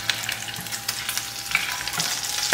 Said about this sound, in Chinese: 锅热了把虾头放进来，